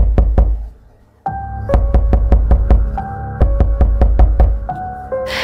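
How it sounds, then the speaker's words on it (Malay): Repeated knocks land on a kitchen door in loud, sharp bursts, a quick run first, then after a short pause a steady series of raps with a ringing, resonant tone. "tiba-tiba pintu dapur diketuk berkali-kali tau"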